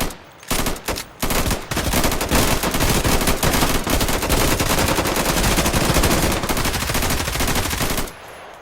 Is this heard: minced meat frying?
no